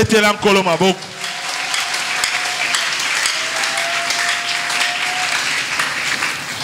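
A church congregation breaks into steady, loud applause and cheering that carries on for several seconds after a speaker's raised voice at the start.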